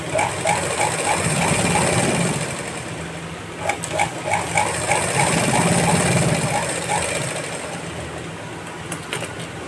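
A sewing machine stitches fabric during a basic tailoring class, running in rapid mechanical bursts with short pauses between them, close and fairly loud, with a voice speaking at moments.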